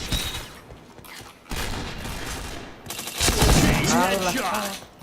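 Rapid bursts of gunfire in the Point Blank online shooter, clustered fusillades with sharp impacts, moderately loud, with some talk and game sounds mixed in.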